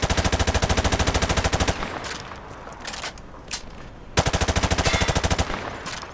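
Automatic weapon fired from the hip in Modern Warfare 2 Remastered, two long rapid bursts of loud, evenly spaced gunshots separated by a pause with scattered single shots and clanks.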